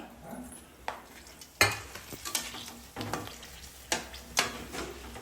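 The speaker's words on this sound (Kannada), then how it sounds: "ಈಗ ಇದೆ ಬಿಸಿ ಎಣ್ಣೆಗೆ ನಾವು ಒಂದು ಸ್ವಲ್ಪ ಇದು ರೆಡ್ ಚಿಲ್ಲೀಸ್ ಹಾಕ್ತಿದ್ದೀನಿ" Dried red chilies, stems left on, frying briefly in hot oil for a chutney, with a soft, steady close-up sizzle broken by several sharp stirring scrapes and taps against the pan. No voices.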